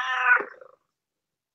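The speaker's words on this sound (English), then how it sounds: "Hi, Kitty" A house cat gives one loud, close meow with a harmonic, falling tone, lasting well under a second and fading out, then silence until a faint knock right at the end.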